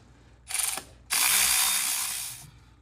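A ratchet wrench loosens a bolt on the plastic water pump of a VW Tiguan, giving a short burst of clicking followed by a longer, steady run of close, loud ratcheting that fades out.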